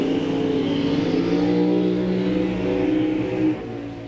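Drag racing cars at a dragway doing burnouts to heat their tires, among them a supercharged 1978 Ford Pinto wagon, with loud sustained engine roar and revving, steady and close.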